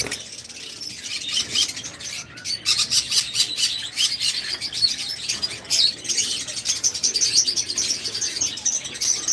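Pet birds at a bird farm chirp and tweet in a busy, overlapping chorus, close and lively, with softer cooing mixed in.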